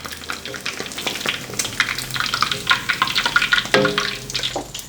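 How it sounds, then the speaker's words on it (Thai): Pieces of chicken fry in hot oil in a Thai kitchen, giving a constant close sizzle. Bubbling crackles and occasional light clinks of a utensil break through it. "ระหว่างทอดไม่ต้องไปคนมันนะครับ"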